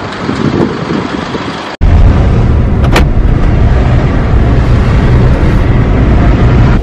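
A car drives along a road toward a Honda dealer for repair, its engine and road rumble loud and steady from inside, with wind buffeting and a brief dropout partway through.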